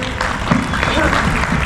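An audience claps at a Holi special kavi sammelan poetry gathering, a short burst of mixed applause with a voice carrying over it.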